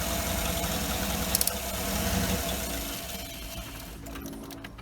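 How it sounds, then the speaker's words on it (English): A 2008 Cadillac Escalade with the GM 6.2L engine idles roughly up close with a loud, steady rumble, lets out a few brief pops, then sags and fades as it stalls. "It made a pop, pop, pop, pop, and then it cut off."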